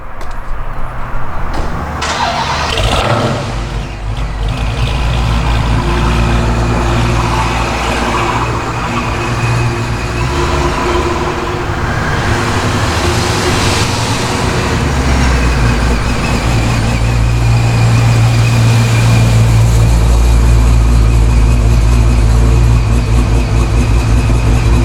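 A 1000-horsepower Procharged 426 Dodge Scat Pack idles with a deep, loud, continuous rumble at a fuel station, then rises and shifts in tone as the car pulls away, with no voices heard.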